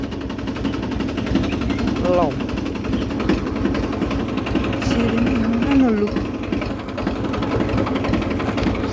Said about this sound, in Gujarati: ટ્રેક્ટર થઈ ગયું સ્ટાર્ટ.